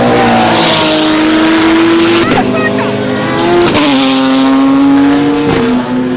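Race cars scream past at high speed on a circuit straight, engines loud and close, pitch sliding as they pass, with a commentator talking over the roar.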